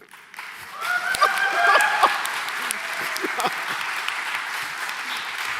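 Council members applaud the England women's football team at a full council meeting, a moderate round of clapping that swells then settles into steady patter, with a brief spoken word.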